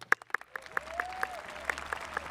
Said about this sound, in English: Let's first give a round of applause to President Bradley.